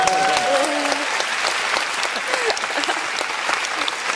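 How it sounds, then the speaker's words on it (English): A large crowd at a company event in Malmö gives a round of applause for a woman celebrating her birthday, sustained dense clapping with a brief whistle and some cheering voices mixed in. "So give her a round of applause."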